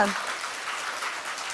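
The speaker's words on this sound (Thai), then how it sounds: "ปรบมือให้ท่านประธานหน่อยค่ะ" An audience claps for the company chairman at an Atomy corporate presentation, a brief, soft and even patter of applause.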